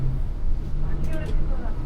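A Volvo sleeper bus arriving at a travel office in Alappuzha, its engine a loud, steady low rumble close by, with a voice speaking over it.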